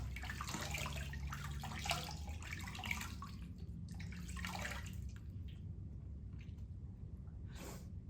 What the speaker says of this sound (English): So typically I will splash 6 to 8 times because you really want to get all that stuff off as well.